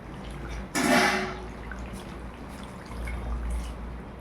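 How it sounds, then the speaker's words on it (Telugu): Water is poured into chicken curry in a pot in one brief, bright splashing gush lasting about a second, followed by faint gentle bubbling and background hum. "కొద్దిగా వాటర్ వేసేస్తున్నాను."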